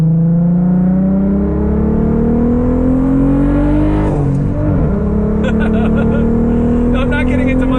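Audi RS3 five-cylinder engine with an aftermarket exhaust revving up, a loud rising drone that climbs steadily, dips briefly, then climbs again with crackly burbles near the end.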